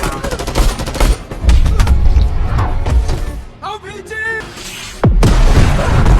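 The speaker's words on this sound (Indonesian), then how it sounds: "Rencana itu harus tertahan oleh para prajurit Omar yang terus menembaki mereka dari segala arah" Rapid bursts of gunfire and heavy booms from the Jackie Chan action film Vanguard crackle loudly, mixed with a voice speaking over the action.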